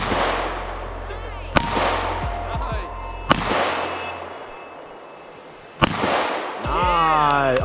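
Handgun fired outdoors, giving three sharp, loud cracks spaced a couple of seconds apart, each with a short ringing tail, and voices in the background between shots.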